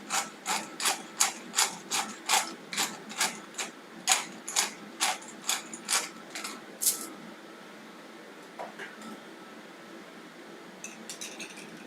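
A hand-cranked pepper grinder cracks peppercorns in a quick series of about fifteen sharp, rhythmic ratcheting bursts, close and clear, then stops, leaving faint kitchen clatter and a few small clicks.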